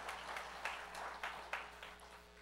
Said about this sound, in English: Can we give God a hand clap?